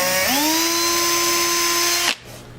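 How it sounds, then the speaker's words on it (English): A power drill bores a small screw hole while building a box, its motor revving up to a steady high whine for about two seconds before stopping abruptly, close and loud with no talking. "and then I'm going to drill"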